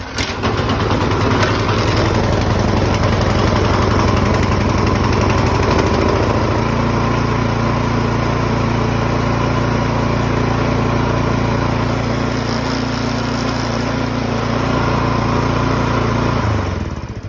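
A Troy-Bilt snowblower engine catches after a pull start and runs loud and close, its rumbling idle shifting in pitch about six seconds in, then cutting off near the end.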